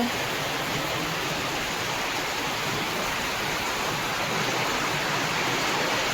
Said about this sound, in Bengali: এই বৃষ্টি থামবে না